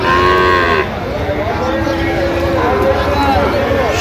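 Several Sahiwal cattle, including bull calves, moo loudly at a livestock market, one long low call up close and others overlapping, with crowd murmur and talking in the background.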